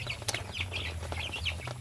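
Chickens and chicks cluck and peep at a countryside farm in the province, a busy scatter of short calls and chirps close by with a low rumble underneath and no talking.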